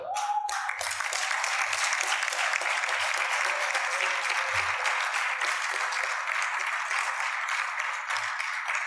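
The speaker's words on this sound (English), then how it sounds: "Another round of applause for him." A conference audience breaks into sustained applause after a brief moment, dense steady clapping filling the room from start to finish at an even level.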